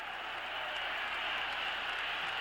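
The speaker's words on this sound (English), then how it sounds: "Packer crowd" A packed football crowd of about 56,000 at Lambeau Field in Green Bay roars steadily as a 1978 Packers drive against the Bears unfolds, a dense, continuous wash of distant cheering with no break.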